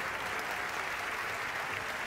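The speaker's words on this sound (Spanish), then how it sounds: "Un aplauso muy grande para Javier." Steady audience applause filling a concert hall after a performance by an orchestra, a dense, even wash of many clapping hands with no voices standing out.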